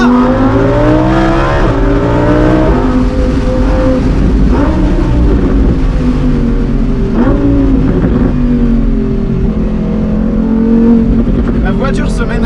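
Lamborghini Huracan Performante S with a naturally aspirated engine revving high, a loud continuous engine note rising and falling in pitch through the gears, with talk heard over it.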